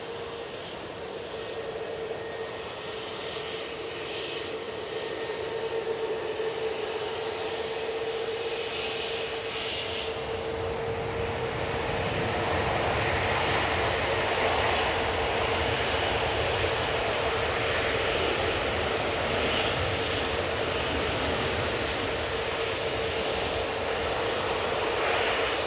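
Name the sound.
Juneyao Airbus A330 plane at Manchester Airport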